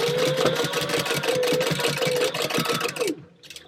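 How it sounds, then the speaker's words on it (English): A sewing machine runs steadily at close range, its rapid mechanical stitching rattle continuing for about three seconds before stopping. "let's go to the sewing machine"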